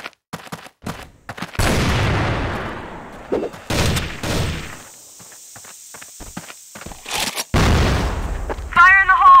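Video game combat with a sudden loud blast and bursts of gunfire, separated by footsteps and quiet gaps, followed by a short electronic tone at the end.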